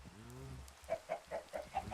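Chickens cluck in a video game, a short series of clipped, evenly spaced clucks at close range, preceded by a brief low warbling call.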